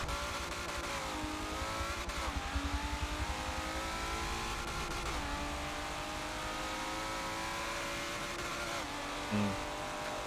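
Race car engines in Forza Motorsport 7, including a GT-R, whine and rev continuously, pitch sliding up and down with gear changes, loud and steady with no talking.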